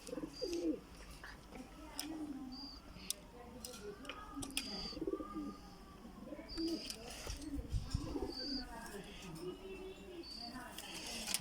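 Golden pigeons kept by a pigeon club give soft, repeated coos with a few chirps, fairly faint and close, over a quiet background with low voices murmuring nearby.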